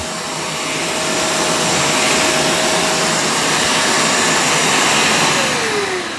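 A Shark StainStriker HairPro Pet PX251 portable carpet cleaner runs on suction only, producing a loud, steady, close whooshing roar that holds throughout.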